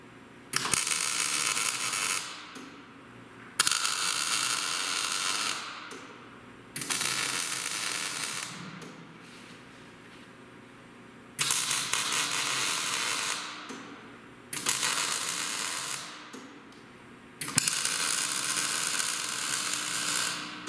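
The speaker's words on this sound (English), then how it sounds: "So we're just going to do some tack welding," Tack welding on an upturned trailer frame: six bursts of harsh crackling arc, each about two to three seconds long, separated by short quiet pauses, fairly close and steady, with no talking.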